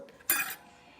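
A single quick clatter of a pot and utensils while noodles are blanched in pork-bone soup, a bright metallic clink that rings briefly and then fades into quiet.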